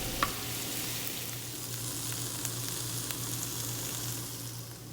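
Steady sizzling of bell peppers frying in a pot, a continuous crackle with a low hum underneath and a few faint clinks.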